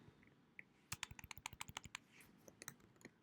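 Quick bursts of typing on a computer keyboard while entering a search into the Google Chrome browser, a dense run of close, crisp key clicks followed by a few scattered taps.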